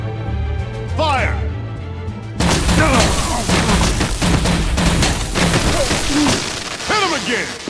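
Gunfire and blasts in Telltale Batman Season 2, loud booming bursts and crashes layered under shouting voices and dramatic music, dense and continuous after a quieter opening.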